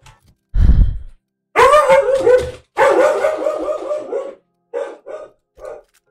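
A dog barks in a series of loud, close yips and whining barks with short pauses between bursts, heard alone in a game session with no talking.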